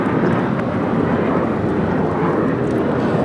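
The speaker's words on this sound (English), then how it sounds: "This is United Airlines 1430 taking off to Chicago on the 737-900 ER" A United Airlines Boeing 737-900ER bound for Chicago takes off from Los Angeles, its jet engines producing a loud, close, continuous roar with no talking over it.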